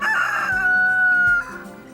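A rooster crows once, a loud drawn-out call close by, trailing off into faint farmyard clucking.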